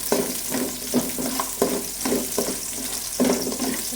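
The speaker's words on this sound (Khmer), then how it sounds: "ហើយឆោបន្តិច" Close-up sizzling of garlic and shallots stir-frying in oil in a pot, with rhythmic scraping strokes of a utensil stirring roughly twice a second, steady frying hiss underneath.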